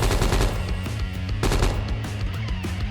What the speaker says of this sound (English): Switching to full automatic fire.